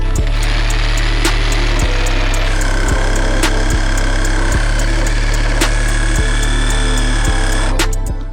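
A Dnipro-M DRS-201BC Compact cordless reciprocating saw cuts through a 12 mm metal plate with a steady, loud, rhythmic buzz and regular stroke pulses, close up and without talking.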